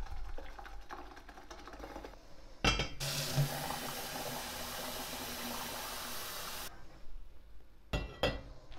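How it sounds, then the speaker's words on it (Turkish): Tea being brewed in a home kitchen: soft clinks of glass and dishes, then a long steady rush of pouring water from a kettle, followed by a few more sharp clinks near the end. "Hemen çayımı demleyeyim."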